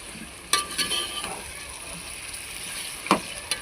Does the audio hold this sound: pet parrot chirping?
no